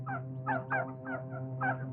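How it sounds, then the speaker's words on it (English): Geese migrating north over a beaver swamp, honking in repeated calls over a low steady hum, several bursts spaced through the stretch at moderate loudness. "Only sign of animal life was the geese migrating north for the summer."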